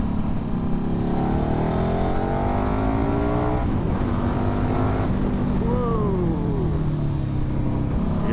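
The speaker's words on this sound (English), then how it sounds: "It's got plenty of shove. Accelerates quite hard, that." A 2008 KTM RC8 motorcycle with its LC8 V-twin accelerates hard, engine note rising steadily through the gears in long sweeping pulls, loud and close throughout with no talk over it.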